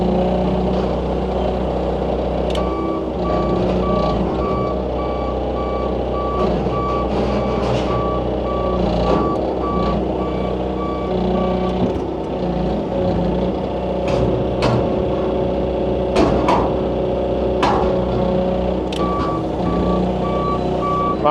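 Truck's reversing alarm beeping in a steady repeated pattern over a rumbling idling engine on a farm yard, with occasional clanks and knocks from machinery nearby.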